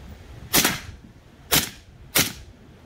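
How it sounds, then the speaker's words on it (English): A suppressed piston-operated gun fires three distinct, sharp shots, the first alone and the last two closer together, loud and near with no talking. "Another piston gun, so it'll probably jam too. It doesn't like being suppressed."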